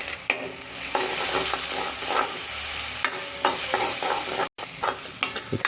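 A large, finely chopped onion fries in oil in an iron wok toward golden brown: a loud, bright sizzle with brisk, repeated stirring scrapes and clicks, briefly cutting out near the end before resuming.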